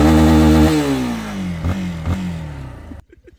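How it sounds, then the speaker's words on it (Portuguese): A 2026 Yamaha Lander motorcycle engine is held high against its rev limiter, a loud buzzing drone that sags in pitch, stutters with a couple of cut-outs, then drops away into a few quieter sputtering pulses. "Vou tirar um cortinho de giro pra ver"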